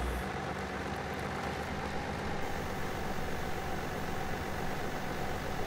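An old tractor in Farming Simulator 17 idles steadily with a low, even engine rumble that holds throughout without a break, sounding close and continuous with no talk over it.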